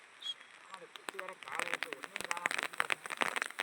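Rain patters and crackles irregularly on a surface at a camping spot, a dense run of quick close drop clicks at low overall loudness, with a brief voice early on.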